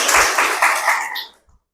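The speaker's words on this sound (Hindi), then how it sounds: "अब इनकी ताली बजाओ" Audience applause at a spiritual gathering, a short burst of dense clapping from a crowd that fades out after about a second and a half.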